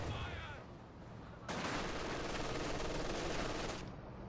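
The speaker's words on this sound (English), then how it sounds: "Sniper fire there against him before they need to retreat that." Dense, continuous gunfire bursts in a Company of Heroes 2 battle, quieter at first then rising into a sustained rattling volley that fades near the end, with faint talk underneath.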